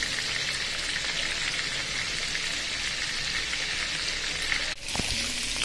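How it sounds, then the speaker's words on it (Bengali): Chicken pieces frying lightly in oil for a yogurt chicken dish, a dense, steady sizzle close by throughout with no talking and a brief clatter near the end. "দই চিকেন করার জন্য আমি চিকেনগুলো হালকা তেলে ভেজে নিচ্ছি, একদম ফ্রাই করে ফেলবো না,"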